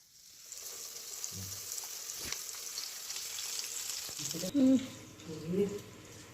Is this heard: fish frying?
yes